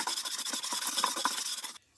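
Sandpaper rubs back and forth over a handmade wooden board in quick, close, raspy strokes for nearly two seconds, then stops abruptly into near silence.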